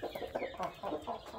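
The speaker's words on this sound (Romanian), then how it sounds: "avem o familie completă de 3 găini și un cocoș" Brahma chickens, three hens and a rooster, cluck softly and continuously at close range, low murmuring calls overlapping with no speech.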